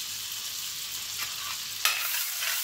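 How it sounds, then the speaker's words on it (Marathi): Finely chopped garlic fries in butter in a pan for Frankie rolls, a steady close sizzle with a single sharp clatter of stirring partway through. "आता आपण यामध्ये बारीक चिरलेला लसूण टाकतो."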